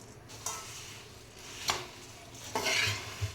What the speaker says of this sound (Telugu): ఇలా స్లో ఫ్లేమ్పై వేయించుకోవాలి.